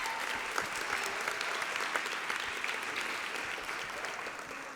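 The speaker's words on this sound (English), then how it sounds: "Give yourself a round of applause, please." A graduation audience applauds steadily, a dense, even wash of many hands clapping at a distance that slowly fades toward the end.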